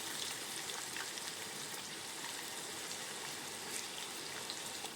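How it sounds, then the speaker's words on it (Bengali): Potatoes frying in mustard oil for mutton curry give a faint, steady sizzle and crackle throughout, with no talking. "এবার পরিমাণ মতো সর্ষের তেল দিয়ে দিলাম আলুগুলো ভেজে নেবো তেলটাতে"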